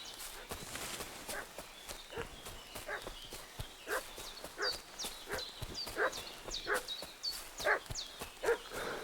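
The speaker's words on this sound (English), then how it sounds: "What's that dog making such a fuss about?" A dog barks repeatedly in a medieval village in Kingdom Come: Deliverance II, the uneven yaps carrying over clopping hooves and footsteps.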